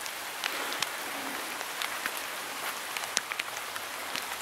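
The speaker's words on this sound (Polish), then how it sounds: "A jak widzicie, znowu leje." Heavy rain pours beside a wooden church of St. James the Elder, a dense, steady hiss of drops striking surfaces with scattered sharper close splats and no talking.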